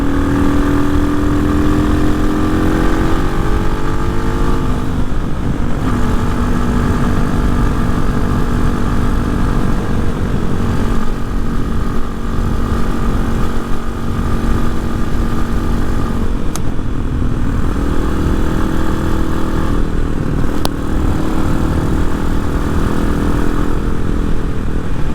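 A Honda Hawk 250 motorcycle fitted with a Loncin RE250 six-speed engine is ridden, its loud engine droning steadily with pitch rising and falling through gear changes, heavy wind rush throughout and no talking.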